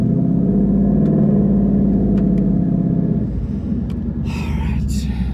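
A boosted 2019 Mustang GT with twin turbos idles with a heavy, loud rumble that swells into revving, then drops to a lower, rougher drone near the end.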